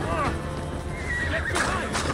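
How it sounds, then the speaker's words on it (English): A horse neighs and whinnies with clip-clopping hooves in the video game Assassin's Creed Valhalla, the calls rising above game sound and a person talking. "Come horsey, come horsey."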